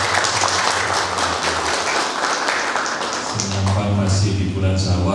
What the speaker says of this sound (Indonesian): Jadi tepuk tangan untuk keluarga.